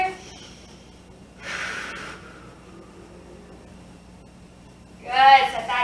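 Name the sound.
children taking deep breaths in yoga class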